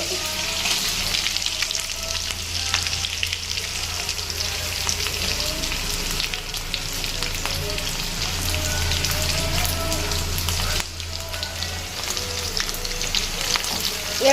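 Green chillies, onion and curry leaves fry in hot oil, giving a steady, dense sizzle with crackling spatters and occasional stirring scrapes throughout, close and fairly loud with no talking.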